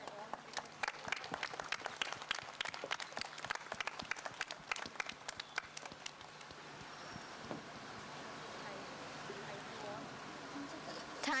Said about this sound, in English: let's welcome our chief guest with a loud round of applause